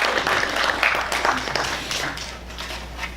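Audience applause fills a celebration-of-life memorial service, a steady wash of many hands clapping together that slowly thins and softens toward the end.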